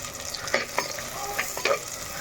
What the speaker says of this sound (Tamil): வெங்காயத்தையும் பூண்டையும் நல்லா வதக்கிக்கலாம்